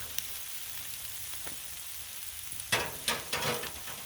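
Beef and vegetables frying on a Blackstone griddle, a steady close sizzle broken by several louder scraping bursts near the end as a spatula slides the food across the hot surface.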